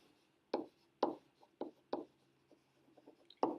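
Chalk or marker strokes writing an algebra equation by hand on a board: several distinct taps and scrapes in an irregular rhythm, close and fairly quiet, with no talk.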